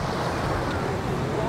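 A loud, continuous rush of waves crashing against a city seawall fills the moment, a dense roar of surf and wind with no voices.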